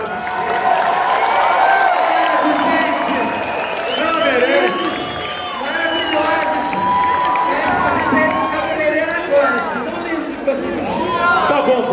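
A stage-show audience claps and cheers for a performer called Bichinha, a lively wash of crowd noise and applause running throughout, mixed with chatter and voices.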